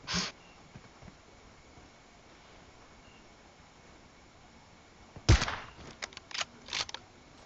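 Gunfire from the PUBG Mobile video game comes as one short burst at the start, then a louder cluster of rapid shots near the end, with quiet game ambience in between.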